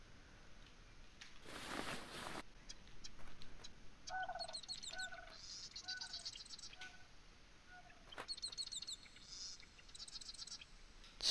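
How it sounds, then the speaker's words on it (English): Birdsong in the video game Night of the Dead: faint, distant chirps and repeated short trilled calls over a quiet ambient bed, with a brief whoosh early on. "So now I hear birds singing."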